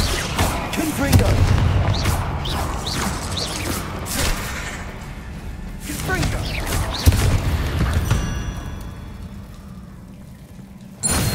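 Confringo fire spell explosions in Hogwarts Legacy during a fight with spiders on Xbox Series S: dense booming blasts and crackling impacts layered over continuous game ambience and effects, loud and busy throughout.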